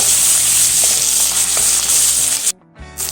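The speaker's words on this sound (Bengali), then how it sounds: "এবার দিয়ে দেব টমেটো কুচি, বাটা, 1 চামচ জিরে গুঁড়ো। এবার দিয়ে ভালোভাবে কষিয়ে নেব।" Onion, chopped tomato, paste and ground cumin frying hard in a pan for a mustard-paste bhola fish curry, a loud steady sizzle with stirring scrapes that cuts out near the end and then resumes.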